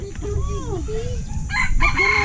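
A rooster crows loudly and close among a flock of chickens, its long bending call followed by clucks and other crowing, over low background rumble.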